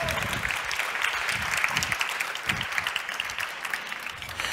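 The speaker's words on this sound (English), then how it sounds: "Thanks a lot, applause for you." A room full of people at a science show claps steadily, a broad wash of applause at moderate loudness that holds throughout.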